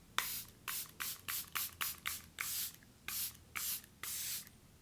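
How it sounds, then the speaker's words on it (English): Charlotte Tilbury Airbrush Flawless Setting Spray misted from its bottle in about a dozen short, close hissing spritzes, some quick in succession and a few longer bursts, alone with no talk. "Final step is a few spritzes of the Charlotte Tilbury Airbrush Flawless Setting Spray"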